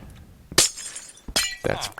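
Glass blocks shatter in the Minecraft video game, two bright crashing breaks with glittering debris about three-quarters of a second apart, loud over a quiet background.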